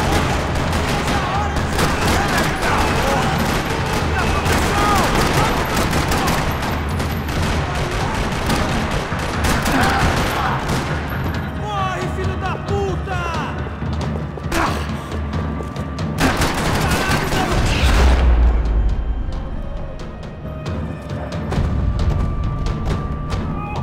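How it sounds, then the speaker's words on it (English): Sustained gunfire rattles through a parking lot in the video game Max Payne 3, with dense bursts of shots, booms and thuds filling the scene almost continuously, loud and close throughout. "Another parking lot rattling with gunfire."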